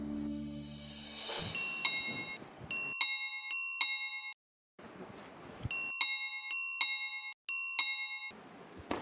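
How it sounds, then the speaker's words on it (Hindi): A doorbell chimes repeatedly in a house, sounding in bright bursts of ringing tones in regular groups, with a short pause between rounds and no talking over it. "कब से घंटी बज रही है, जाके देखो कौन है।"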